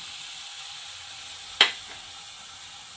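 Chopped beetroot drops into a hot pan on the stove for a Kerala-style pachadi, giving one sharp, brief sizzle burst over a faint steady hiss.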